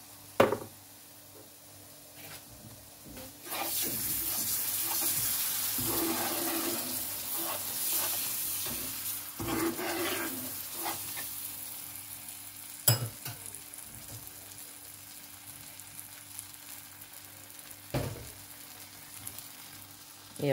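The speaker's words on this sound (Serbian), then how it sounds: "Dodajem čašu paradajza." A glass of tomato added to fried flour in a pan hisses into a loud sizzle that gradually fades, with intermittent stirring scrapes and a few sharp utensil knocks.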